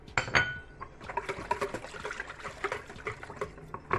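Oil being poured into a bowl of pizza dough ingredients, with soft liquid trickling and light clinks of a glass or utensil against the bowl, close and fairly quiet.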